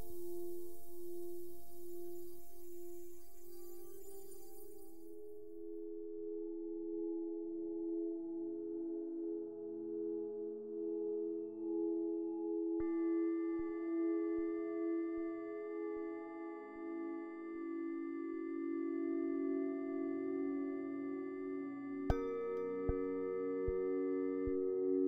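Generative ambient music from the Scape app, with sustained drones and soft layered tones joined partway by steady higher pitched notes and a few sparse plucked accents, calm and continuous with no talking.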